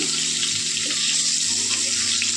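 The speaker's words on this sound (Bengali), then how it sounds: "ইলিশ মাছের মাথাটাকে ভেজে নেব।" Hilsa fish head frying in hot oil in a pan, a steady loud broadband sizzle and crackle that runs continuously and close, with no talking.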